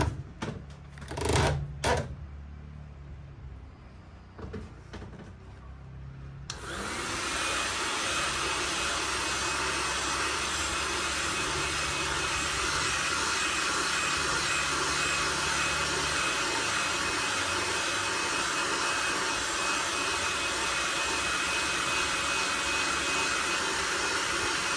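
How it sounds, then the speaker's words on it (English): A heat gun setting paint on a Balam 245 swimbait lure starts after a few handling clicks and then blows as a loud, steady, close hiss and whir that runs without a break to the end. "We'll go ahead and heat set that"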